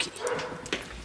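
A dog gives short yips and whimpering barks in an indoor scene from a French-language sitcom, close and moderately loud, with some muffled background noise.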